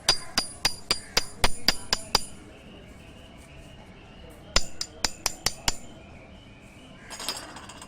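A stainless steel Lambretta reed valve is tapped in quick runs of bright metallic clinks, two rapid series of about eight sharp strikes each, then a few more at the end.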